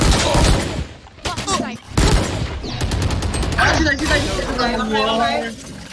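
Gunfire bursts from a shooting video game, rapid volleys and single shots crackling through most of the clip while players talk excitedly over them.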